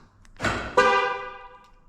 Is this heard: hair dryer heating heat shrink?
no